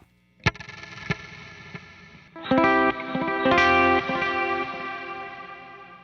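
Guitar played through a Meris Mercury X reverb pedal with op amp saturation: a few plucked notes ring out, then full distorted chords swell with long, washy reverb tails that sustain and slowly fade.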